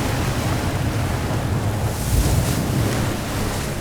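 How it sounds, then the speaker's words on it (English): Big waves break in a continuous, loud roar of surf at the Cliffs of Moher in Ireland at sunset, mixed with wind noise, without voices. "Big breaking surf, beautiful red sunset."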